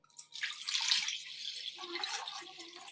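About two glasses of water are poured into a wok (kadhai) with cut raw mangoes, a soft close splashing and gurgling stream that runs steadily for a few seconds at low volume.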